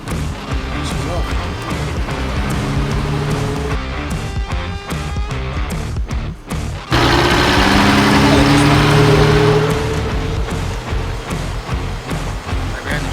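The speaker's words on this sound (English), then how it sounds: "That's how you get a really smooth idle." An old pickup truck bought for $800 idles with a low, rumbling engine note that grows louder and steadier partway through, while people talk inside the cab over it.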